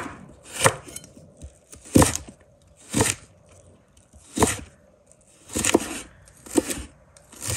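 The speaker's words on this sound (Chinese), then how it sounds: "胡萝卜切成薄片，再切成胡萝卜细丝" A knife chops a carrot into thin slices and then fine strips on a cutting board, with sharp, evenly spaced chops repeating about once a second, close and clear with no talking.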